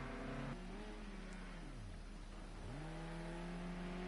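A race car engine revs in a racing game at the Bannochbrae circuit, its pitch dipping and climbing through several quick throttle swings over a faint steady hum.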